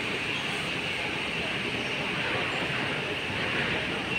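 A Kuala Lumpur LRT train pulling into KL Sentral station: a continuous, even rumble and hiss of the train filling the space at steady volume, with no clear talking.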